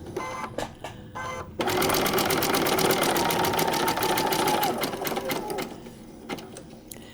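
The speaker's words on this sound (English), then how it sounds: "So I'm going to stitch this piece all the way up to the corner and stop." A vintage sewing machine stitches a quilt piece with a loud, rapid mechanical whir that runs steadily for several seconds, framed by brief starts and stops of the needle.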